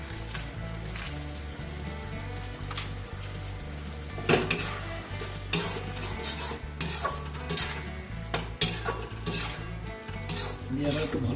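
Soya manchurian with vinegar, pepper and spices being sautéed in a pan, a spoon scraping and clinking against the metal over a low continuous sizzle, with a few sharper knocks and no voices.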